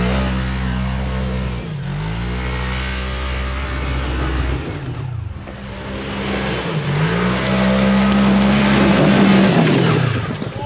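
A Kawasaki side-by-side UTV revs hard climbing an icy winter hill, its engine rising and dropping through several surges, loud and close, with wheelspin roar building toward the end.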